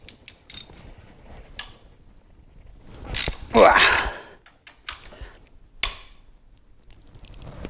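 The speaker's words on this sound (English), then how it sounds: "So I got to get the bigger ratchet here." Ratchet wrench working on the engine of a 2009 VW Jetta TSI, giving short bursts of clicking and mechanical clatter with a louder ratcheting stretch in the middle, close by.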